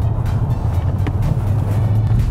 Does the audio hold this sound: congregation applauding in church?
no